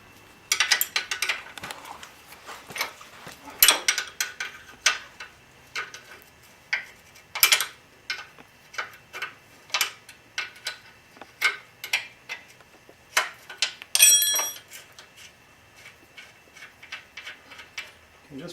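Ratchet clicking while loosening a nut and bolt during a motorcycle engine service, with repeated close metallic ticks and short bursts of rapid clicks spread through the clip.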